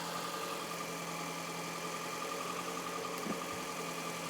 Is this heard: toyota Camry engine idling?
yes